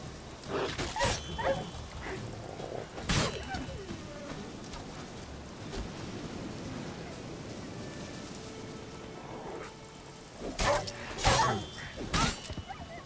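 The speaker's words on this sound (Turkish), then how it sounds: "bu vahşi köpekler bu enteresan köpek olmuşlar" Wild dogs in The Witcher 3 bark and whimper in short bursts near the start and again near the end, with rain-like ambient noise running underneath.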